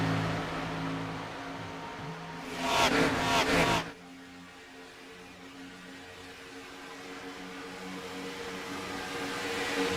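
Race cars lap an oval track midway through a race, a brief loud surge of engines sweeping past close by before the sound falls back to a distant, steady drone.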